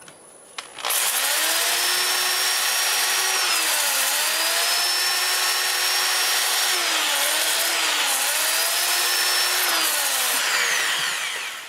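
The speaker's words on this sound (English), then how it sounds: "have the lathe running in reverse at about 400 RPM" A wood lathe spins in reverse at about 400 RPM during a difficult turning job. It starts after a brief moment with a loud, steady, close whine whose tones dip and rise in slow repeating swells.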